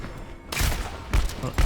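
Gunfire in the Overwatch video game, heard as several short bursts of shots and thumps separated by brief gaps, loud and close.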